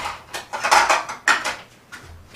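A ceramic plate clatters and scrapes in a handful of short knocks and clinks, close by and fairly quiet, with no talking.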